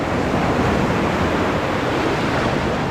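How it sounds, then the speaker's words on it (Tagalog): Strong sea waves surging along a rocky shoreline, a loud, dense wash of rushing water and surf noise that stays close and steady for the whole stretch, mixed with some wind buffeting and no voices. "Tapos tignan nyo, lalakas ng alon."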